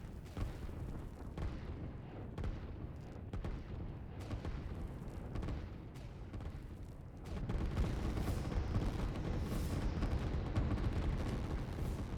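Artillery fire in the strategy video game Line War: a dense, continuous rumble of booms and blasts that swells louder partway through, with no speech over it.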